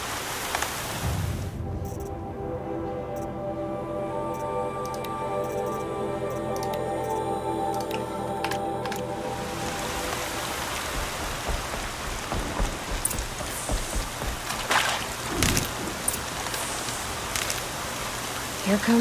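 Heavy rain pours down in the video game Horizon Zero Dawn, a dense hiss of drops that swells in after a few seconds, with scattered sharper splashes and a voice talking over it at times.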